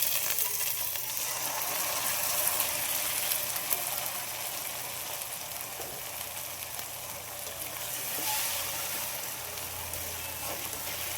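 Steady broadband sizzling and bubbling of blended tomato simmering in a pan for garlic-okra tamarind kulambu, continuous and fairly close, with no voices.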